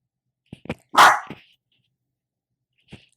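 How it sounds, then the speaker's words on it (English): A dog named Luna barks loudly and close by, with a few short yips and a long harsh bark near the start, then quiet before one faint last yelp. "I'm gonna have to pause this until she's done barking"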